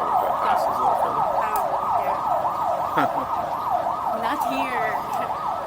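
Ambulance siren wailing in a steady repeating up-and-down sweep, fairly loud and close over street traffic, with a brief spoken remark in the middle.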